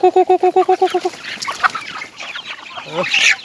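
A rapid run of about eight rhythmic clucks from a nearby chicken opens, then mixed farmyard clucking and squawks continue more loosely.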